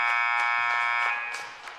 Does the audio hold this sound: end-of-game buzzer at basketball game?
yes